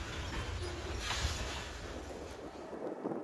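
CSX freight train 344 departs on the Columbus Subdivision, a steady low rumble and rolling rail noise with some wind buffeting, moderately distant and continuous with no talk.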